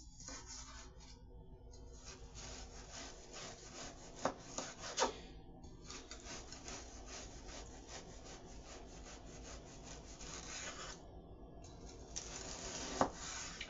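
Knife cutting through frozen imitation crab, a close, steady scraping and sawing rasp with a few sharper clicks.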